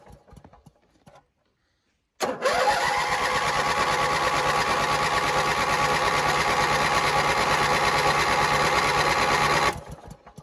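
A Craftsman snow blower engine cranks without firing, a fast, even mechanical chugging that starts abruptly after a short silence and runs nearby for about seven seconds before stopping.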